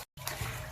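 Water trickles and hisses inside an old 1600s lead mine, a brief, faint rushing wash after a moment of silence.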